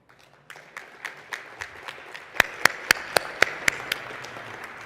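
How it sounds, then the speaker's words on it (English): Audience at a NeurIPS 2018 paper presentation session clapping after the talks, a sparse, moderately loud round of individual claps that grows into a sharper, more distinct series of hand claps. "Let's give them a final round of applause."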